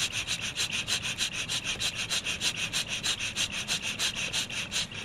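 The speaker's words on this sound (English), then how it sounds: "repeatedly squeeze and release the bottle, the spinner will keep spinning at a very fast rate." A squeeze-bottle spinner whirs with a fast, steady flutter and a rapid pulsing rhythm, close and fairly quiet, with no voices.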